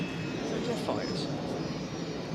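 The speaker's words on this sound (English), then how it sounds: "Sounds like a fighter jet, that does." A fighter jet passing overhead near an airport at night, heard as a steady, moderately loud broadband roar with a faint rising whine, continuous and without other sounds.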